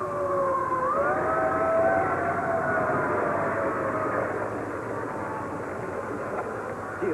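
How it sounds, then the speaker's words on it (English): A fire engine's siren wails with a rising, steady tone that sweeps upward once before holding. It sounds moderately distant against a constant rumbling background. "fire engine!"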